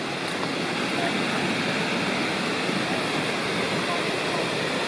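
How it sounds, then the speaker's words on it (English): Huntfish Falls in the Lost Cove Wilderness roars as a steady, dense rush of falling water, loud and close, continuous without any break. "Huntfish Falls, a truly beautiful waterfall"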